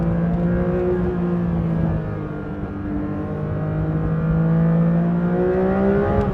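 A 2024 Porsche 911 S/T engine revving hard one gear lower, a loud, sustained rising and falling engine tone heard from inside the car, with no voices.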